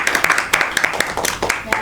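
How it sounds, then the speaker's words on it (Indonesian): A handful of students clap in a classroom at the end of a teaching session, uneven separate claps in quick succession with voices talking over them. "Boleh tepuk tangan?"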